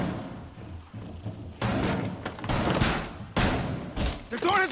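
A door being barricaded in Rainbow Six Siege during a Bartlett U team deathmatch, a run of heavy thuds and knocks in quick bursts with game noise, and players talking over it.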